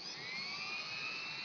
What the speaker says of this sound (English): this is a Dremel. It's a knockoff of a Dremel.